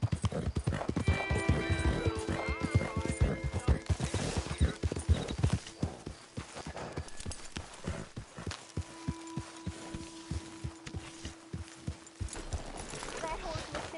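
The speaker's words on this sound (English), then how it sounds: "That horse looks in fine fettle, Arthur." A horse clip-clops along in the Red Dead Redemption 2 video game, with steady, close hoofbeats and a brief whinny, while people talk over the hooves.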